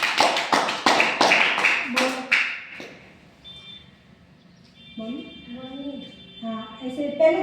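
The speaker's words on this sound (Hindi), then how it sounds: "खड़े हुए तालियां बजाओ उनके लिए" Classroom of children clapping for a classmate: a burst of several sharp, close claps for about three seconds, followed by a quieter stretch and then children's voices talking.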